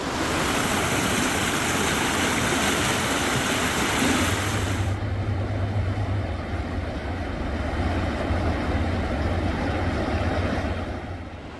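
A loud, continuous rush of a swollen, fast-flowing river fills the scene, dense and steady, with a deeper rumble emerging partway through.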